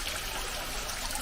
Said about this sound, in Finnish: Sitten tossa on pieni vesiputous.